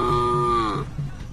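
A voice imitates a buffalo mooing, one loud, drawn-out, close low bellow lasting under a second that fades into quiet room noise.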